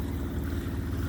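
A sailboat's inboard engine thrums along steadily at 2200 revs while cruising at about 4.5 knots in the Gulf Islands, a low, even, rhythmic throb with water and wind noise washing over it.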